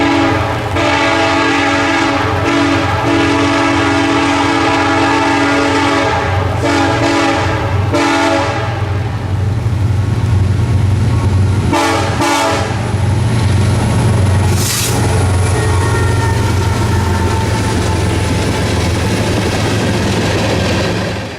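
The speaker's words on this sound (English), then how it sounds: "CSX empty ethanol tanks on K889 running out of Baldwin Yard today" A CSX freight train of empty ethanol tank cars, led by a BNSF AC and a BNSF Gevo locomotive out of Baldwin Yard near Folkston, rumbles past loudly. Its horn sounds in long blasts, then wheels roll and clatter steadily.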